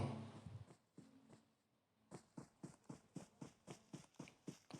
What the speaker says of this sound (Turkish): ayak sesleri hala ayak sesleri